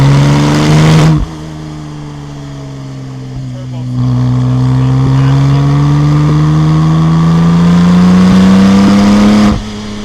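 A Porsche 996 Turbo Cabriolet's turbocharged engine revs hard and climbs in pitch through the six-speed gears, loud and close from inside the cabin, with a brief drop at each shift.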